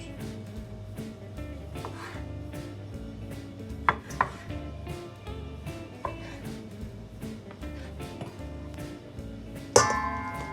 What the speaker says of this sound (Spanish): Luego cogemos unos cherries que tenemos aquí y los vamos a trocear en cuartos